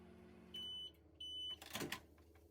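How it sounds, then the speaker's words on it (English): A microwave oven roasting peanuts: two steady electronic tones, each about a third of a second, followed by a brief rattling clatter, all fairly quiet and close with no talk. "So I'm gonna start microwaving it for 3 minutes"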